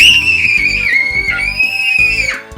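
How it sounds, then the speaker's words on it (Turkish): A young child lets out one long, loud, high-pitched excited scream lasting over two seconds, close and piercing, with a faint voice in the background. "aman ne çığlık attın"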